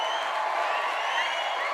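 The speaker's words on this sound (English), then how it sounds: "Listen to all this applause" Steady applause from a crowd at a live event, a dense even patter of many hands clapping with faint cheering mixed in, filling the whole moment without pause.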